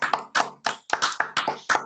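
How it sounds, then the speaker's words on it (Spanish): Applause for Christopher at the close of a talk on the milpa and visual studies: a handful of close, crisp hand claps in an uneven rhythm, about eight or nine strikes over a couple of seconds, with no voices. "Le podemos dar un aplauso o algo así"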